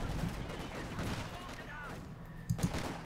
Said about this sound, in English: And the mortars are still falling.